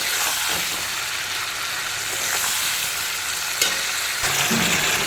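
Tomato, chilli, onion and ginger-garlic paste fry with spices, salt and a little sugar in a pan, giving a dense continuous sizzle and hiss with a few soft stirring scrapes, close and unbroken.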